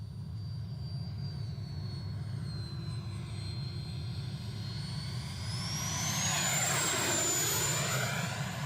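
An RC jet's JP electric ducted fan runs continuously, recorded from inside the duct, giving a loud, even turbine-like whine with high tones that rise and sweep upward toward the end.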